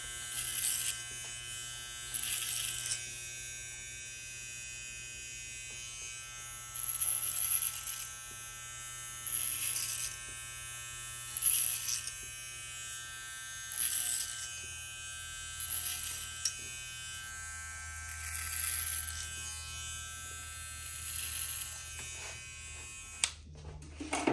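An electric hair clipper buzzes steadily through a high taper haircut, close and continuous, its pitch swelling in regular pulses as the blades pass through hair over and over, with no talking.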